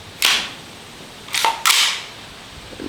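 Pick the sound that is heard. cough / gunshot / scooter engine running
gunshot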